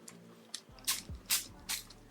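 Water splashed onto a face by hand while removing makeup, several short wet splashing bursts close to the microphone, no talking.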